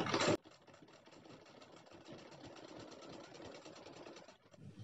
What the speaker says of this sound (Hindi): अब यहाँ से यहाँ तक सिलाई दे देंगे